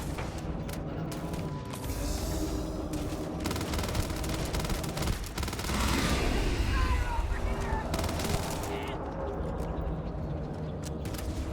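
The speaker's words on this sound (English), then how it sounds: "You're taking fire." Gunfire during a combat encounter in Starfield, steady distant-sounding volleys and booms rolling on for over ten seconds under occasional talk.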